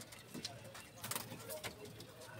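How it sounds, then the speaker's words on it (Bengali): Pigeons cooing softly in a loft at a pigeon market, low murmuring calls in short bursts close by, with background voices and shuffling. "আচ্ছা ভিউয়ার্স আমরা একটু কবুতর দেখি ভাইয়ের এখানে।"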